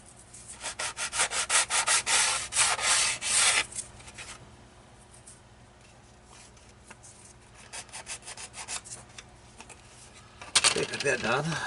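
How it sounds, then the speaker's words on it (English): Sanding spruce burrs off the wing edges of a DH Beaver model plane: quick rhythmic rasping strokes close by, a pause, then another burst of rubbing, with a voice speaking in the quieter gap. "burrs that come from the spruce tree that are on these wing tips here, on the wing edges. Got to be sanded out."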